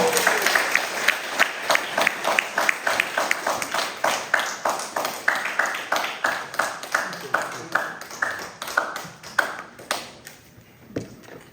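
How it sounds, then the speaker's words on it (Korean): An audience at a Korean history lecture claps to welcome the lecturer, a long run of sharp, rhythmic claps in near unison that keeps a steady beat for about ten seconds before thinning out and stopping. "박수로 부탁드리겠습니다"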